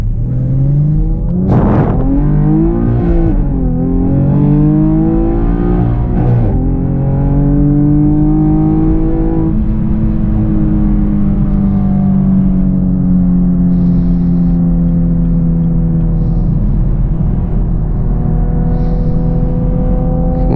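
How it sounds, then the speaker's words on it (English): Camaro V6 1LE at full throttle up an on-ramp, the engine note climbing in loud rising sweeps through the gears with brief dips at each shift, heard close from inside the car, no talking. "we'll go full throttle rip down this on-ramp here"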